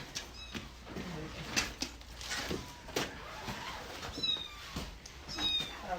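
A tiny baby kitten gives several short, high meows at irregular intervals, fairly close, with faint indoor background noise and soft voices between the cries.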